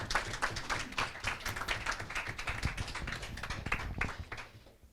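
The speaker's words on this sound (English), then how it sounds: "Round of applause from the audience." A school debate audience gives a round of applause for the next speaker, steady scattered clapping across the whole stretch that fades out at the end, with no talk over it.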